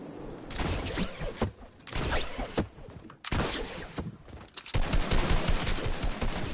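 Shotgun blasts in a multiplayer building shooter video game, several loud booming shots in quick succession with short gaps between them, sharp attacks followed by rattling decay.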